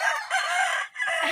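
A rooster crows close by on a rural farm in the Philippine countryside, a loud harmonic call with a brief pause before it carries on.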